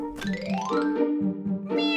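A cat meows several times in quick succession, close and loud, the calls rising and falling in pitch with short gaps between them and no talk.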